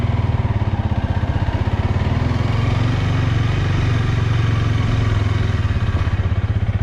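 A 2022 Honda Rebel CMX300 motorcycle engine idles close by with a loud, steady, throbbing thump and a faint mechanical clatter.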